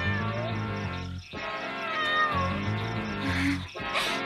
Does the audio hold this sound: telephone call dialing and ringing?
no